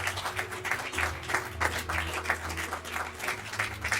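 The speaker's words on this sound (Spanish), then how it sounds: "Denle un aplauso al Señor" A church congregation claps steadily, a dense spread of many hands ringing out without pause from start to finish.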